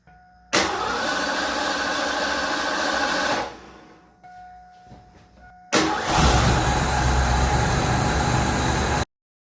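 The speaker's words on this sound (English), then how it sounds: "I can have the starter turn the engine over" A starter cranks a 1987-91 Ford F-150 pickup engine, which roars steadily for a few seconds, cuts out, then after a pause starts and runs loud again.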